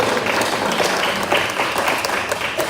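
Seminar audience breaks into a round of applause, a loud, dense wash of many hands clapping continuously, with faint cheers mixed in.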